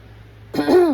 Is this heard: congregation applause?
no